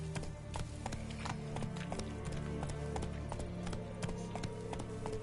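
The horse Roach in The Witcher 3 clip-clops along at a steady walking gait, with regular hoofbeats tapping clearly over a low ambient hum, moderately close and with no speech.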